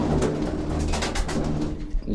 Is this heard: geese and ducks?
no